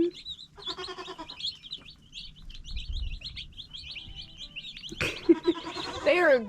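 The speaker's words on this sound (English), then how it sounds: "take care of these loud screaming goats" Goats scream loudly in bursts near a brooder of tiny yellow mail-order chicks, which cheep steadily in the background; a loud harsh goat call dominates the last second and a half.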